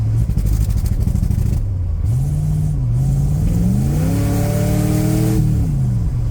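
A car engine with a Turbo 400 automatic transmission revs hard at wide open throttle, its pitch climbing and dropping through a downshift and then rising again, loud and close with no talk.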